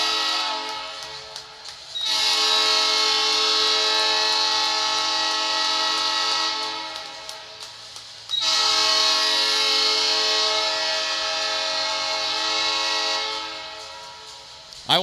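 Two long, loud blasts of a train horn at a high school varsity game, each sustaining a rich chord for several seconds, separated by a brief quieter gap.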